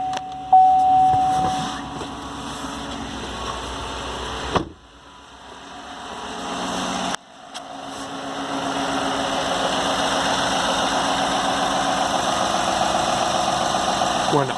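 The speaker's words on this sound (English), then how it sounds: "When idling, it's nice, it's quiet, it's smooth." A 2015 Chevy Silverado pickup fitted with a cold air intake idles with a smooth, steady low hum, broken by two brief drops in level midway, then settling into a constant drone.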